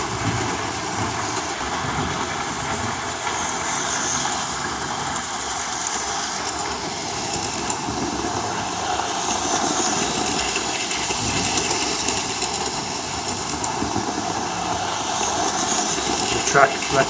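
A Hornby Q6 model locomotive runs along a stretch of loosely fastened track, giving a steady whirring motor hum and fine rail rattle that holds throughout at a fairly constant speed.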